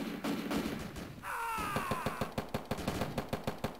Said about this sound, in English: Oh no, I'm shooting at a fucking wall.